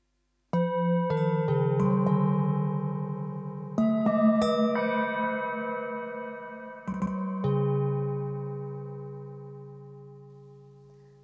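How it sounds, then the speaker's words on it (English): Several struck Tibetan singing bowls bloom into long, humming sustained notes that overlap and slowly decay, each new strike adding a fresh ringing layer. "Tibetan bowls,"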